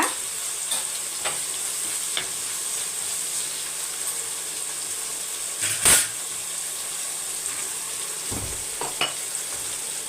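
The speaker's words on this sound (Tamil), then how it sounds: "நல்லா வதக்கி விட்டுக்கோங்க" Prawn masala sautés in a pan with a steady close sizzle, broken by occasional stirring scrapes and a brief louder burst of steam partway through. No one speaks.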